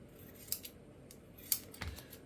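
Scissors or a blade trim leather on a tooled rifle sling after holes are punched, giving a few short, sharp snips close up in a quiet room.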